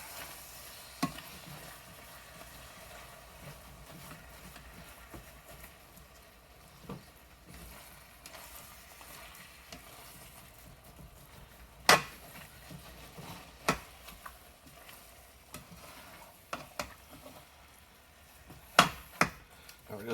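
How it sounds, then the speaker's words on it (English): Ground beef, onion and peppers with garlic and white pepper sizzle quietly in a pan while a utensil chops and stirs, sharp scraping clicks and knocks popping out now and then over the steady frying. "Now we're going to kind of chop and stir, get the beef broken down, mixed into the onion and peppers and white pepper and garlic and all that goodness."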